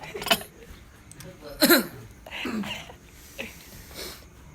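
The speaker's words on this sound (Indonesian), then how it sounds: "Tahu-tahu batuk gini Mas" A few harsh coughs and throat-clearing bursts spread across the moment, close by, with quiet murmuring voices between them.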